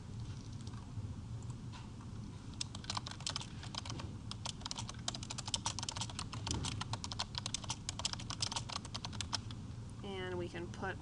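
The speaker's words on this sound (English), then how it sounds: "we'll type in our question here" Rapid bursts of keystrokes on a computer keyboard as a question is typed into an online form, steady and close, with a brief voice-like tonal sound at the very end.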